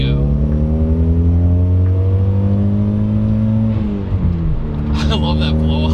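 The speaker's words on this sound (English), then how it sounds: "it's just a stock Evo 9 blow off valve" Mitsubishi Eclipse GSX engine revving loudly and steadily under load, with a brief dip near the four-second mark as a stock Evo 9 blow-off valve vents, followed by a sharp hissing burst of air.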